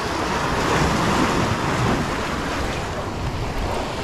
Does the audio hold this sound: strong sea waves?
yes